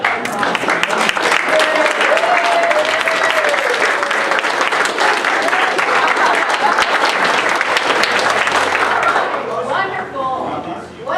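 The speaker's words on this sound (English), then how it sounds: "Would you please stand up and everyone give everybody a round of applause." A standing audience at a community meeting applauds loudly and continuously for about nine seconds, with scattered cheers and voices mixed in before the clapping dies away and talk resumes.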